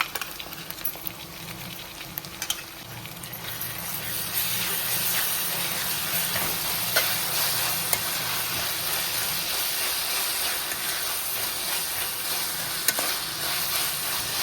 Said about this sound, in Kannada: ಶುಂಠಿ ಬೆಳ್ಳುಳ್ಳಿ ಪೇಸ್ಟು ಹಾಗೂ ಒಂದು ಸ್ವಲ್ಪ ಅಷ್ಟನ್ನು ಹಾಕಿಬಿಟ್ಟು ಮತ್ತೆ ಫ್ರೈ ಮಾಡ್ಕೊಳ್ಳಿ.